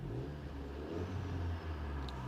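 A current-generation Volkswagen Golf hatchback, not a GT version, hums with a steady engine drone and a gentle rise in revs, heard from inside the car with no talking.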